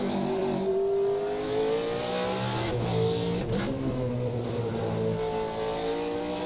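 A racing car engine in a video game at the Nürburgring whines steadily at high revs, the pitch rising and falling as it shifts, with brief scraping bursts midway.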